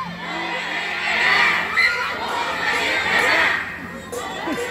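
A large crowd at a political campaign rally shouts and cheers in rising and falling waves, with high excited voices and whoops mixed into the roar.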